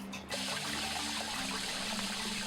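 A koi pond pump sends a steady, hissing stream of running water with a low hum underneath, continuous and even throughout, with no voices.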